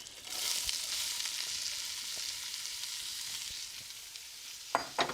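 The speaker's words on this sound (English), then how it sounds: "Let's take our veggies and put it into our Dutch oven." Vegetables sizzling in a hot Dutch oven for chicken and dumplings, a steady close frying hiss throughout, with a few soft knocks of stirring at the end.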